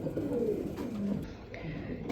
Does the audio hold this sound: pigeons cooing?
yes